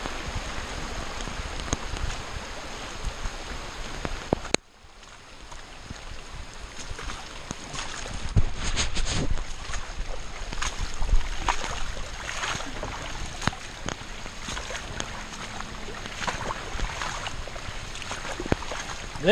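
Water from a dug ditch runs into a newly made farm pond, a steady broadband rush of flowing water with a brief drop near the start, then continuing with splashy bursts close by.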